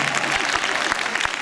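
Audience applause at a live variety show in Ploaghe, Sardinia: a steady, dense wash of clapping with no pause for the whole moment.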